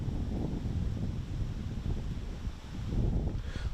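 Gusty wind buffeting the microphone on an outdoor disc golf course, a continuous low rumbling roar that swells and eases, with no voices.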